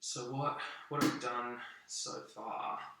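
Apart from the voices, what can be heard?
No everyday noises stand out.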